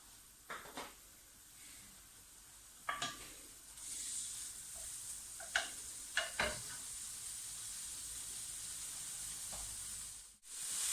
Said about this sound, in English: we're going to start off with our chopped bacon. Start to give that a gentle fry